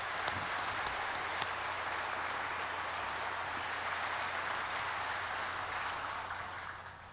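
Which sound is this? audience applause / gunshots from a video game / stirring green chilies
audience applause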